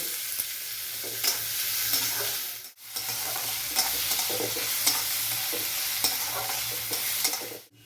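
Chopped ginger, onion and garlic fry in a pan for a Bengali chana masala, giving a steady broadband sizzle with soft stirring scrapes and one brief gap before it resumes.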